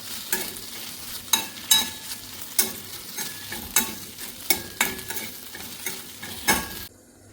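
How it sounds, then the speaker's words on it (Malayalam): Okra frying in leftover oil in a pan, a low continuous sizzle broken by repeated sharp scraping stirs at a steady rhythm, close and without talk. "അതിലിതായി വെണ്ടക്ക ഒന്ന് വറുത്ത് കോരിയെടുക്കുന്നുണ്ട്"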